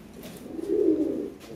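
A pair of Bombay pigeons, healthy breeding birds, give a single low, rounded coo rising and fading in the middle of a quiet moment, close by with faint background noise.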